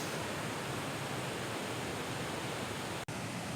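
Water at Tinoyan Falls rushes in a dense, unbroken roar that stays loud and even, broken only by a momentary dropout near the end, with no voices.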